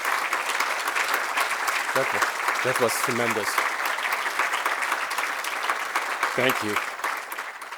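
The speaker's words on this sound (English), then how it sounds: "Let's give another round of applause for the council." Audience at a memorial celebration for Dr. Haroutune Armenian gives sustained, steady applause, with someone speaking briefly over the clapping.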